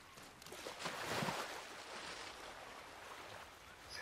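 Rushing water from a waterfall in the video game Ghost of Tsushima, a steady broadband wash with no voices over it, fairly quiet throughout.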